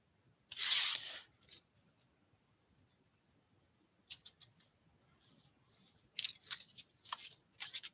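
Scissors snip through cardstock while trimming it to size for a handmade stepper card: one crisp cut, a short snip, then a run of quicker cutting strokes, all close and fairly quiet.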